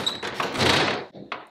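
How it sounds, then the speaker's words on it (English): Door being shut during a home renovation, a sliding rumble and a solid thud followed by a lighter knock, close and fairly loud. "let me shut the door."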